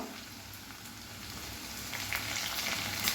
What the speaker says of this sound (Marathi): कांदासुद्धा आपल्याला हलका असा गुलाबी रंगावरती हा परतून घ्यायचा आहे. तेजपत्ता, कढीपत्त्याची पानं